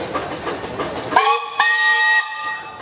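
A steam traction engine's loud, shrill steam whistle blows in two close blasts over a hissing rumble at a parade, then fades.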